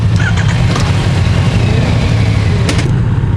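A 2018 Yamaha Niken three-wheeled motorcycle rides close by on a test ride, its engine a loud, steady drone with a low rumble that holds without pause.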